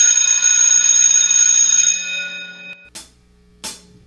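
An electric bell rings to end a class, a bright steady metallic ring held for nearly three seconds, then two short sharp bursts after it stops, loud and close, with no voices.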